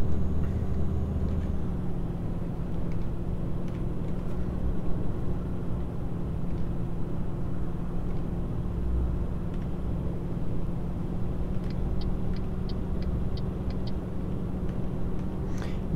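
Truck engine held at full throttle in Euro Truck Simulator 2, a steady low droning rumble with a constant tone, even and sustained throughout, with no talk.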